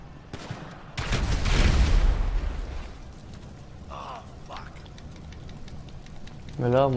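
A burst of gunfire in the GTA V video game, lasting about two seconds, with rattling shots over a low rumble. It then fades into quieter background noise with brief voices.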